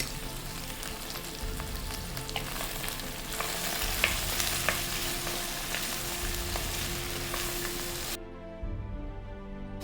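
Okra frying in a pan on high flame with salt and turmeric gives a loud, steady, close sizzle with faint stirring scrapes, cutting off abruptly near the end.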